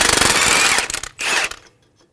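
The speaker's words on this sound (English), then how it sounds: "Using a 22mm socket and a 24mm wrench, we're going to hold the nut and remove the bolt" A sway bar link bolt on a 2003-2008 Honda Pilot front strut being loosened with a 22mm socket while a 24mm wrench holds the nut, a loud close rattling tool burst, a brief pause, then a second shorter burst.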